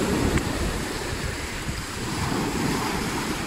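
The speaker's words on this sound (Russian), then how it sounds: "Волны, вода теплая." Atlantic surf on the coast of Spain washes in steadily, a broad loud hiss and roar of breaking waves mixed with wind buffeting the microphone, continuous with no voices.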